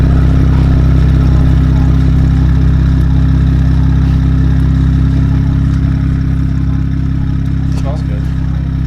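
A BMW N54 335i engine fitted with a single turbo runs loud and close, a deep steady drone that swells slightly as it is revved, with a faint voice toward the end.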